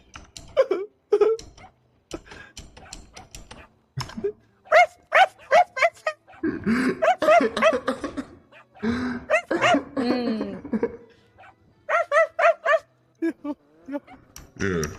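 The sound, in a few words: man imitating a dog barking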